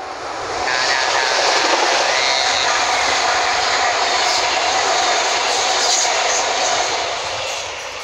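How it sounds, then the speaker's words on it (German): A train rolls past as a steady, loud broadband rumble and rush, swelling in within the first second and holding for about seven seconds before easing slightly, with no voices. "Bahn kommt."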